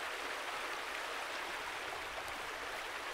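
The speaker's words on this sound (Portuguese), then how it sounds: "A gente tem um riozinho aqui." Small river in a survival video game streaming steadily, a continuous broadband wash of running water that stays even and unbroken throughout, with no voices.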